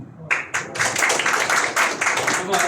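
Audience at an office inauguration event breaks into clapping after a speech, a burst of close, dense applause that starts abruptly and carries on steadily.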